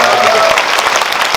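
Audience applause at a film Q&A screening in a cinema hall, a loud, dense burst of many hands clapping, close and continuous.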